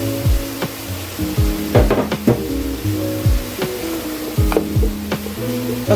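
Pumpkin hits a hot pan and sizzles, with a spatula knocking and scraping against the pan in repeated short strokes over continuous frying noise.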